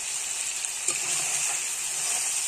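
Chicken sautéing uncovered in a pan over a stove flame gives off a steady, close sizzle with a brief stir partway through.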